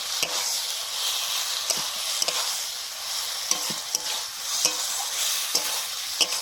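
Mustard paste and ground roasted cumin frying in a pan with vegetables, giving a steady close sizzle broken by intermittent scraping stirs from a spatula.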